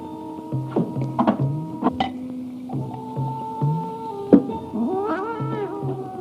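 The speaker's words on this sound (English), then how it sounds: "Why are you feeding a cat in an examining room?" A cat meows in an examining-room scene from a 1970s horror film, its rising, wavering cries mixed with steady tonal sounds and a few sharp clinks and thuds.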